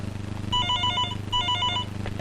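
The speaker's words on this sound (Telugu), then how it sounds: "ఉండు, ఫోన్ వచ్చింది." A telephone rings close by in two bursts of bright trilling bell tones, with a short pause between them, over a low background hum.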